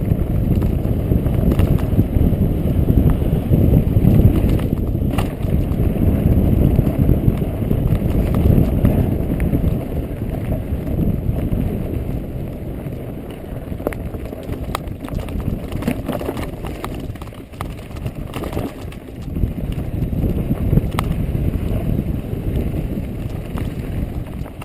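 Wind blows through the pine forest on Mt Elwell as a loud, steady rumble and buffeting that lasts throughout, with scattered rustling and crunching mixed in.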